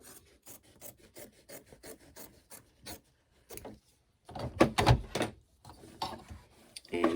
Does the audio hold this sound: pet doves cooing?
no